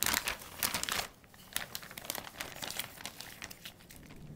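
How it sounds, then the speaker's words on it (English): A gallon-sized plastic zipper bag crinkles as cure mixture is rubbed into both sides of a pork belly inside it. The crackling is close and steady, with dense bursts of crumpling and no speech. "The pork belly goes in a gallon-sized zipper bag, then the cure mixture will be added to that, and it's good to really rub the mixture into both sides of the pork belly."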